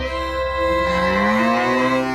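A cow moos in one long, loud, drawn-out low call that bends slightly in pitch, used as a sound effect in a radio advertisement and heard alone with no voice over it.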